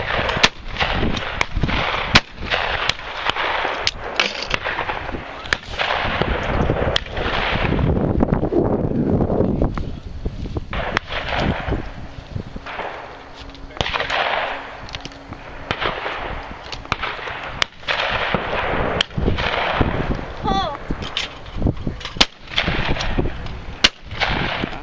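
Shotgun blasts at a sporting clays course at Starview Sportsmen's Association in York, PA, several sharp reports spaced irregularly across the stretch, some close and loud, over steady outdoor wind noise.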